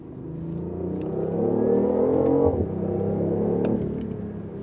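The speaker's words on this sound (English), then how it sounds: "The engine sound is kind of strange" A BMW i8 plug-in hybrid sports car accelerates in sport mode, its engine drone rising and swelling over a few seconds, then easing slightly, heard from inside with no talking.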